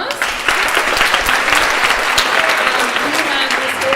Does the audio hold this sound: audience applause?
yes